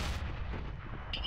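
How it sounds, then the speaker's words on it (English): Grenade blast in Counter-Strike: Global Offensive, a loud booming explosion with heavy low rumble filling the short moment, close and without talk. "Grenade!"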